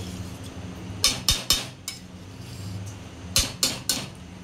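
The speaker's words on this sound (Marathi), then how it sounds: "तांदूळ टाकल्यावर आपण तांदूळ आणि मसाला सर्व एकत्र मिक्स करून घ्यायचा आहे" Metal spoon clanking against a pot while rice and masala are stirred together for homemade kupa biryani, a few sharp scraping clinks in two quick clusters with quieter gaps between.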